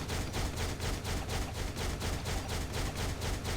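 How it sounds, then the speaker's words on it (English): Rapid, relentless gunfire and explosions from Hawkeye and Bullseye's skills in the mobile game Marvel Future Fight, pulsing in a fast, steady rhythm as one loud, dense barrage with no talking. "Okay, lots of explosions and shooting."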